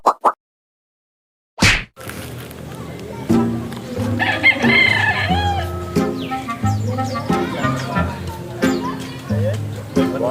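Busy farmyard with a rooster crowing and hens clucking in bursts, mixed with background chatter and other bird calls after a brief quiet start.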